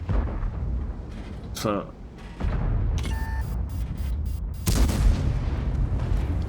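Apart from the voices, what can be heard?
tank cannon firing gold ammunition in video game World of Tanks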